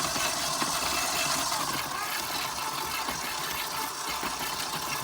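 A mixing machine blends raspberry butter with a steady, loud motor drone and broadband whirr that holds evenly throughout, with no pauses.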